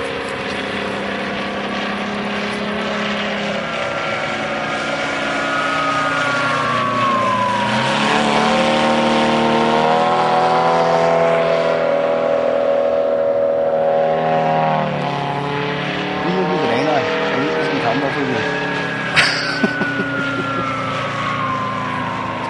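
A Yak 55 model airplane fitted with a Seidel 250cc radial engine drones loudly and steadily, its pitch rising and falling as the throttle changes, close and continuous with no talk over it.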